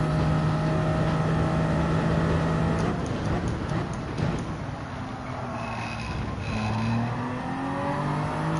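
Toyota Supra race car in Gran Turismo 7 roaring at speed over curbs, a loud close engine whine with shifting pitch, rough rattling bursts from the kerbs and a dip then climb in revs, no talk.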